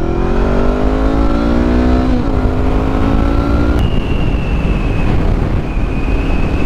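A 2020 Honda CBR500R motorcycle accelerates hard from about 25 mph, engine revving up through rising pitch, dipping at a gear change near two seconds, then pulling again before easing to a steadier drone, loud and close with no talk.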